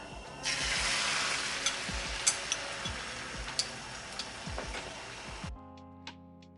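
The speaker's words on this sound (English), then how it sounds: "Now we're gonna cook the egg, so add some oil, then the egg" An egg frying in hot oil in a pan while making kimbap, a steady loud sizzle with small crackles and pops, then the sizzle cuts off near the end, leaving faint ticking.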